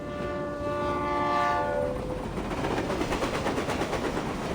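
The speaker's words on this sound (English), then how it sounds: "And why is the stupid train never on time?" A train in Reverse 1999 sounds its horn as it arrives, a loud sustained blast that fades into rhythmic clickety-clack of wheels on rails.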